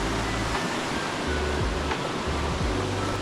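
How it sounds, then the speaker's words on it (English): A small mountain river runs out of an alpine lake, giving a steady, full rushing of water that fills the scene close by, with faint low wind bumps underneath. "This is the little river that runs out of one of the lakes up here, Eagle Lake, which is right beside Symphony Lake."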